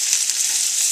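Garlic rosemary potatoes fry in a hot pan, giving a loud, close, steady sizzle and crackle of oil, with no voices.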